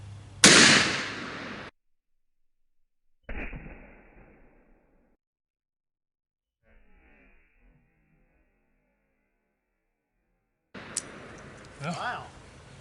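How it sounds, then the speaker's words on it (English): A .45 Colt revolver loaded with Hornady XTP rounds fires into ballistics gel: one sharp, loud report that rings briefly, then quiet scuffling and a later burst of handling noise with a voice. "here goes the 45 Colt Hornady XTP."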